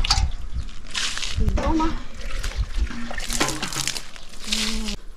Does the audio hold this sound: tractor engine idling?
no